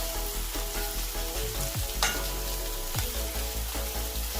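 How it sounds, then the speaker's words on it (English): Onions fry in a pan with a constant close sizzle and occasional scraping stirs, no one talking. "let's cook the onion for roughly about 3 to 5 minutes"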